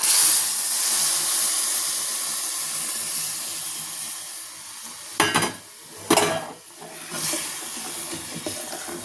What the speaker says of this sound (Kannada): ಈಗ ಈ ಹುರಿದಿರೋ ಅಂಥ ಶಾವಿಗೆಗೆ 2 ಬೌಲಷ್ಟು ಬಿಸಿನೀರು ಹಾಕ್ತಾಯಿದ್ದೀನಿ.